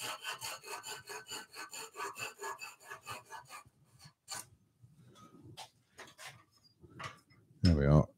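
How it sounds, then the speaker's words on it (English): A pull saw cuts through a waste section of wood in a steady run of close, rasping back-and-forth strokes, then thinner strokes with pauses, and ends on a brief louder knock. "let's cut that off with my pull saw, just because this is the largest area of waste."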